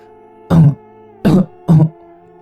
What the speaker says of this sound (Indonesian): Lagi-lagi, aku mendengar suara batuk dari kamar sebelah.